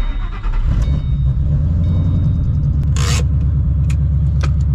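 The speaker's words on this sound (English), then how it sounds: "Let's go ahead and start this bad boy up." A Ford Mustang 3V engine idles after starting, giving a loud, close, steady low rumble with a rapid pulsing beat. Light clicks and a brief hissing scrape sound over it.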